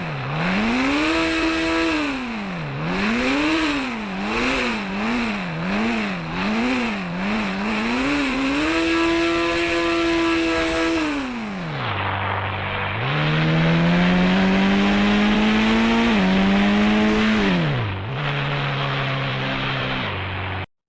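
A motorbike engine in exhaust mode in the game India Bike revs up and down in rapid, rhythmic swells, then holds a steady drone before climbing to a higher, louder pitch and dropping off. The sound is loud and close, with no talk.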